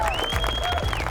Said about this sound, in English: So one big more round of applause for everyone.